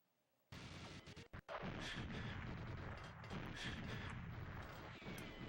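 A game weapon opens fire after a near-silent start, with a few abrupt shots followed by sustained, loud, rapid firing that continues to the end.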